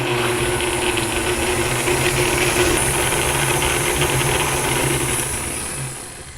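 Electric mixer running at medium speed, blending butter with cinnamon and pumpkin pie spice: a steady, loud mechanical whir with a faint rattle, trailing off at the end.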